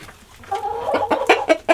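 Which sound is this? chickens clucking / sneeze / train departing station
chickens clucking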